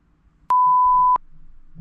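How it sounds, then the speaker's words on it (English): A single steady electronic timer tone sounds once, a clean pure beep lasting well under a second, clear and loud against a quiet room. "Set a timer for 10 minutes."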